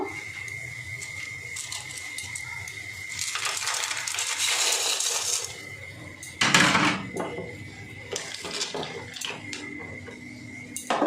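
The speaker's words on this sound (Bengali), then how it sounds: "দেখুন জলটা ফুটে উঠেছে। এবার আমি পাস্তা দিয়ে দেব।" Dry pasta tipped into a pot of boiling water with a little oil in it, giving clattering, rattling pours and a few metallic knocks of the pot between quieter bubbling stretches, fairly soft and close, with no voices.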